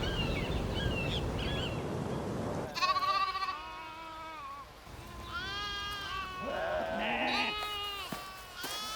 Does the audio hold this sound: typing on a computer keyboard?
no